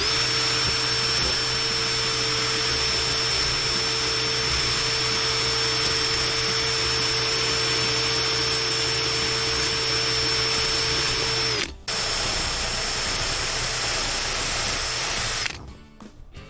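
A drill with a brush attachment grinding a deer skull whines continuously at high speed with a steady grinding drone, briefly interrupted twice, close and loud without speech.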